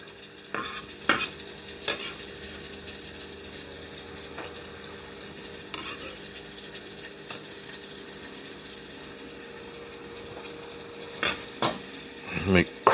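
Celery tipped into a pot for ham and potato soup and stirred, with sharp clanks of utensil on metal at the start and end over a steady low sizzle, close up.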